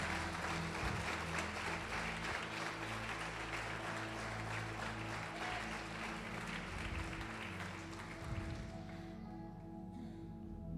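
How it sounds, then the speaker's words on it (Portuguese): A church congregation applauds in praise during a sermon, sustained dense clapping at a moderate distance that thins out and fades near the end, with a faint murmur under it. "Pode aplaudir o Senhor e glorificar."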